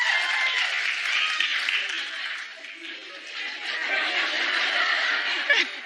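A television studio audience claps and chuckles, a moderate wash of clapping mixed with scattered laughter and snickers, fairly even throughout with a sharper clap near the end.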